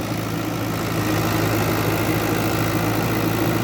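A 2018 Fiat 640 tractor, a New Holland of about 75 hp, runs steadily nearby with a low, even diesel drone and no other noticeable sounds.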